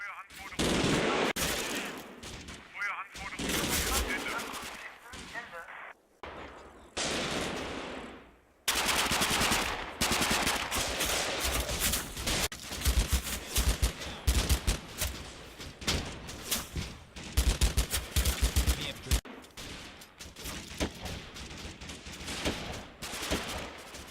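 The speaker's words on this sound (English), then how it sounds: "The remains of 1st Platoon to continue to shoot it out with the Americans on the hill." Gunfire in the Combat Mission Final Blitzkrieg wargame, where WWII infantry platoons exchange machine-gun bursts and rifle shots with Americans on a hill: dense, continuous rattling fusillades with sharp loud cracks, nearly unbroken for the whole stretch.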